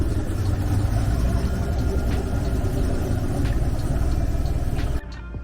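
A 2019 Chevrolet Camaro 1SS engine runs steadily with a broad, even rumble from the engine bay, staying constant for several seconds before cutting off abruptly near the end.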